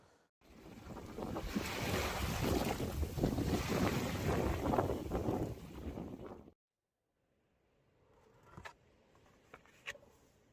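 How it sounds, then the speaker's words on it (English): Strong, warm wind on Scotland's NC500 route buffets the microphone in a loud, rushing roar for several seconds, then cuts out, leaving a quiet background with a couple of sharp knocks. "It's windy, like, but it's still warm"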